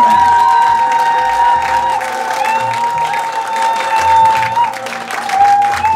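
Wedding guests at a civil ceremony in a garden venue in Yaoundé break into sustained applause with cheering, a dense crowd clapping steadily throughout with a few whoops rising above it.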